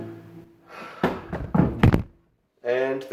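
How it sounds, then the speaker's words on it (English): A camera toppling over indoors, a single loud thunk near the middle of the clip with a second knock right after, set among bits of talk and followed by a brief silence before speech resumes. "And the camera's fallen over"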